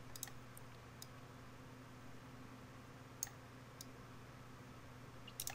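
Computer mouse clicking during 3D plant rendering work, a handful of faint, sharp isolated clicks spaced irregularly over a steady low hum.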